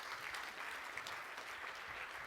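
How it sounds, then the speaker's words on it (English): Faint, distant applause from a charity summit audience, a steady wash of clapping with no break through the whole stretch. "I want you guys to give yourselves a round of applause."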